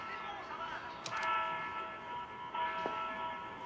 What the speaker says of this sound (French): Les cloches d'une église.